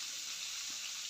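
Chopped onion sizzling in hot oil left from frying fish, a steady close hiss of frying with no talk over it.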